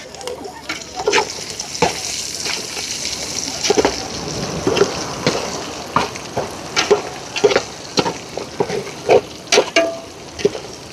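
Dried fish (karuvadu) sizzles and crackles in a pan, with steady frying hiss and repeated stirring scrapes that sharpen in the second half, close and fairly loud, with no one speaking.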